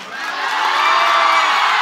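Festival audience at a physics classes fun fest in Dumka cheering and shouting noisily, a loud sustained roar of voices and whoops with little distinct clapping.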